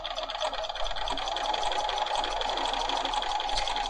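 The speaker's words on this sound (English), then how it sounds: "Now I'm still doing the triple stitch, and I'm watching this bar right here so that it stays right in the middle of my seam." A Bernina 500 series sewing machine sews a triple stitch along a seam, a steady close mechanical whir with a fast regular chatter that runs evenly throughout with no talking.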